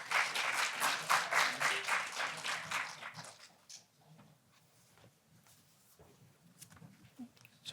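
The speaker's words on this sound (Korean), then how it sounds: "여러분 큰 박수 부탁드립니다" An audience claps for a presenter at a public-sector HRD training contest, a lively burst of applause for about three seconds that fades into a quiet room with faint shuffling.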